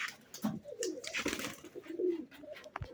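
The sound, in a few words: pigeons cooing in a pigeon loft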